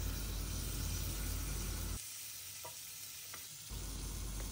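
Marinated fish fillet sizzles loudly in a grill pan over a medium flame, a dense steady hiss that dips briefly in the middle with a couple of small clicks before returning; no talking.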